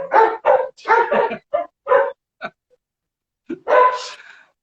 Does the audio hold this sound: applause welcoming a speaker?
no